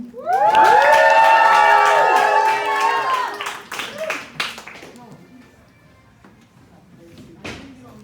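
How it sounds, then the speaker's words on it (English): An audience at a live storytelling show at AS220 bursts into loud cheering, whoops and scattered clapping, then fades to a low crowd murmur with a final short cheer near the end. "Can we give another round of applause to Daria?"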